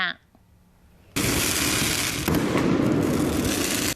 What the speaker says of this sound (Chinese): 阁有人走来放烟火